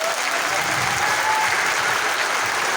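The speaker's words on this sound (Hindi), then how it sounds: "आप ले जोरदार तालियां बजाइए आप।" Audience at an academy gathering in Bhilwara breaks into loud, sustained applause, a dense wash of many hands clapping evenly for several seconds with faint crowd murmur beneath.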